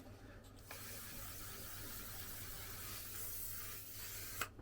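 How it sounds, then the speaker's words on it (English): A stuck face setting spray bottle releases a continuous, close, broad hiss for several seconds, with a faint click near the end. "why would it got stuck and it just started spraying everywhere?"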